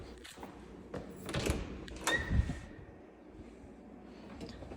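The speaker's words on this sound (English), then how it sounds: "I forgot to open this pantry door." Pantry door in a house opened, with a couple of soft thumps and a brief scraping creak over quiet room noise, no one speaking.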